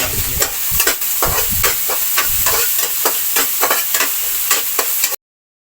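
Ginger and garlic fry in a pan with a loud, steady sizzle, while a utensil stirs them in repeated scraping strokes; there is no talking.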